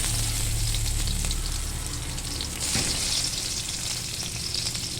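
Garlic, chili and red onion sizzle steadily in a hot pan, a dense, continuous frying crackle with occasional stirring scrapes, close and loud throughout.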